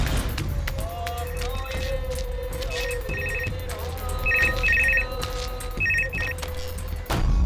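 A telephone rings in repeated short electronic trill bursts over a busy indoor scene in a South Indian action film, with low background noise and movement throughout.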